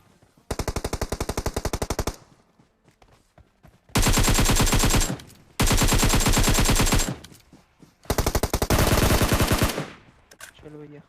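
Rapid automatic machine-gun fire from a shooter video game rattles out in four sustained bursts separated by short quiet gaps, loud and close with no speech.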